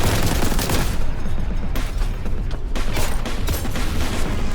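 Bolter fire in the video game Warhammer 40,000: Boltgun, a loud, relentless stream of heavy rapid shots with booming impacts that runs unbroken from start to finish, with no voices.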